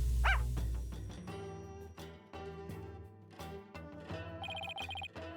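Shadow, a dog in the Phoenix Wright game, gives a string of clipped, synthesized barks in rhythmic bursts alongside ringing electronic game tones and a jingly music cue, all close and clear with no talking.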